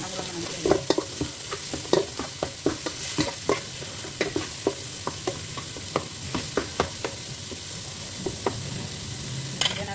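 Ground meat fries in a pan for vegetable lumpia, a sizzling bed under a regular series of sharp scraping stir strokes, fairly close and moderately loud, with no talking.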